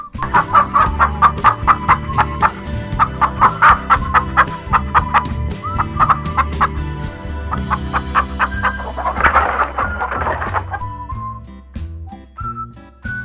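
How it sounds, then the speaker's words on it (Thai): A chicken clucks in quick, rhythmic bursts, loud and close, repeating steadily with a few higher squawks toward the end, set against a soft, sustained musical backing. "เราลองไปฟังเสียงของไก่กันดูนะคะ"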